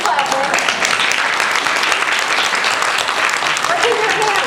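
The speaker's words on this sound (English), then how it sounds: "Okay, keep clapping, keep clapping." Sustained audience clapping at a therapists' talk, a full, steady roar of many hands with a speaker's voice surfacing briefly over it.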